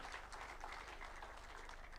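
Faint, distant audience applause fills a large hall at a Kenyan constitution anniversary event at KICC, Nairobi, as a steady, dense patter of many hands that holds evenly throughout.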